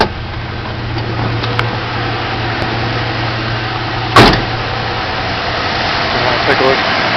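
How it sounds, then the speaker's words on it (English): A car engine idles steadily with a low, even hum, one brief sharp knock partway through, and a faint voice in the background. "Idles nicely."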